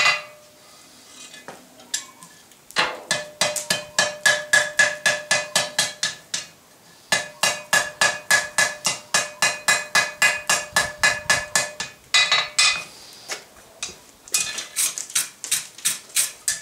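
Hammer blows land in a fast, rhythmic series of sharp metallic strikes on heated iron being forge-welded for a gird and cleek, loud and close, with a few short pauses between bursts.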